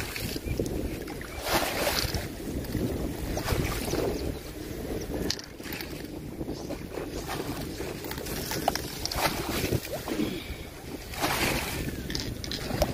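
Wind blows steadily across an open riverside fishing spot, a continuous rough rushing roar with buffeting gusts on the microphone, loud and unbroken throughout.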